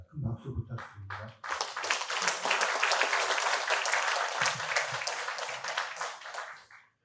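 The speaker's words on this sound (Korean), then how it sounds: "큰 박수 부탁드립니다." After brief speech from a presenter, an audience at a memorial ceremony for the late President Kim Dae-jung in Incheon breaks into steady applause, loud and even, fading at the end.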